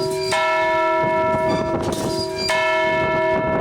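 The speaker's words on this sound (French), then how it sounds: "le campanile qui porte la cloche que nous apercevons. Elle pèse 850 kg, elle sonne toutes les demi-heures." An 850 kg church bell hangs in the campanile of a tower in Le Thor. It rings loudly with two rich strikes whose long, shimmering hum sustains between them, and no voices are heard.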